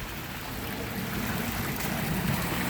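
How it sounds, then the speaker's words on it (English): A double waterfall in a retreat center garden in Hampton, Virginia, gives a steady, even rush of splashing water, close and continuous with no voices over it. "And here we have the Blessed Solanus Casey double waterfall."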